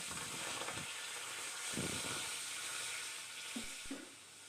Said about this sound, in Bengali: এখন আমি কড়াইতে অল্প পরিমাণে পানি দেব